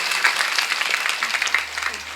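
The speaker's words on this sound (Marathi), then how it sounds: "आमच्या ज्ञानेश्वरी ताई करता एकदा जोरात टाळी वाजवा." Loud, dense applause from an audience at a women's kirtan festival held at a Vitthal Rukmini temple, with steady clapping throughout and no talk.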